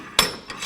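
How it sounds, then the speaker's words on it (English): A hammer strikes a stuck rear wheel hub on a 2007-16 GMC Acadia, two sharp metallic blows about half a second apart with a faint tap between, loud and close. "You can try hitting this with a hammer on the back side and trying to get it off"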